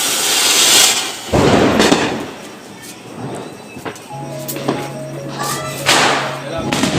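Diwali firecrackers go off in a family celebration, with sharp bursts and crackling pops near 0 and 1.3 seconds and again near 6 seconds, and a lingering hiss between them.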